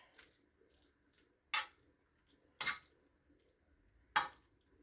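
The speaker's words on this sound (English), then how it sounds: "Let's stir the butter in." A spoon stirs butter into grain cooking in a pot, with three sharp metallic clinks against the pot spaced about a second apart over a quiet background.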